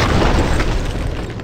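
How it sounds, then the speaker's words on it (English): A cartoon bomb blast cracking walls in an animated Marvel superhero battle, one loud booming rumble that fills the whole short moment and slowly fades. "Bomb guys crack walls, so Hulk can smash"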